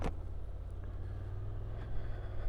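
Low steady engine rumble from a 2025 Honda NC750X DCT motorcycle ridden slowly, a continuous near drone that stays even throughout with no talk.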